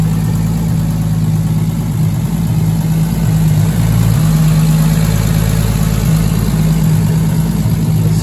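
A heavily modified, roughly 700-horsepower Lexus SC300 idles steadily and loudly up close, a constant low throbbing drone with a faint high whine above it, unbroken for about eight seconds and with no talk.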